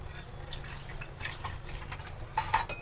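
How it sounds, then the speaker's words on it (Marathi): A small amount of water is poured into whisked curd and gram flour while a Maharashtrian kadhi is being prepared. It makes soft splashing and trickling sounds with a few brief, brighter drips near the end. "आता ह्याच्यामध्ये आपण थोडंसं पाणी टाकून घेणार आहोत."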